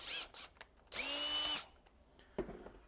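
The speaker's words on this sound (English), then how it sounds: "I'm just going to go ahead and make a mess by pre-drilling them" A power drill pre-drilling holes whirs in one short, loud burst close by, with faint handling clatter before and after.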